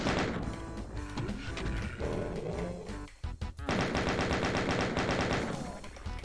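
Rapid automatic gunfire from the video game Final Doom, loud and sustained bursts over a dense game soundtrack, with a brief lull midway before the shooting resumes.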